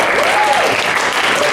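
A brief burst of steady applause from a school talent show audience at a high school, with a faint tonal voice or whistle rising briefly over the clapping.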